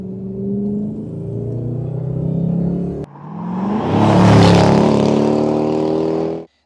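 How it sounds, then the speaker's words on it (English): A Jaguar XK8 with a stainless steel Adamesh stage 1 and stage 2 sports exhaust revs twice nearby, rising in a throaty surge each time before cutting off abruptly. "I adore the exhaust system on my XK8."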